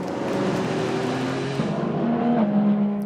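Endurance race cars at the 2023 FIA WEC 6 Hours of Fuji, one leaving the pits on cold tyres, make a loud, continuous engine drone that climbs in pitch as it accelerates past, with no talk.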